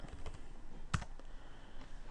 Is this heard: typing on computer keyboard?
yes